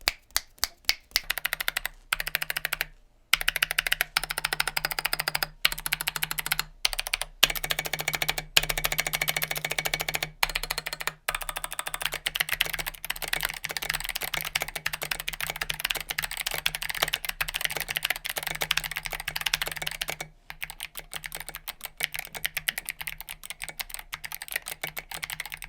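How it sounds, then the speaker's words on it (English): Clicky Kailh Box Pink keyboard switches, a vintage 2018 Crystal set in stock condition, typed on in a fast, steady stream of crisp clacks with a few brief pauses, close and alone. "here is what the Kailh Box Pinks sound like stock"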